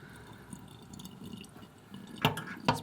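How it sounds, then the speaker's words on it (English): Water draining down a sink through a HEPVO waterless valve, soft close trickling and dripping with two sharper splashy gurgles near the end, no talking. "So good amount of water going down."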